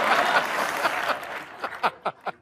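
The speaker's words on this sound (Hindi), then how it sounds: "तो जोरदार तालियों के साथ स्वागत कीजिए।" Studio audience on the comedy show Comedy Nights With Kapil applauds to welcome a guest: dense, steady clapping that thins out within about a second, followed by scattered chuckles and brief voice bursts.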